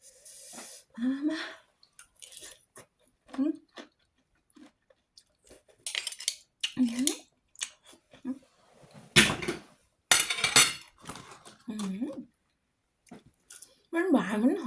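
Raw oysters with seafood dipping sauce being chewed close to the mic in wet, squishy bursts, with someone talking between the bites.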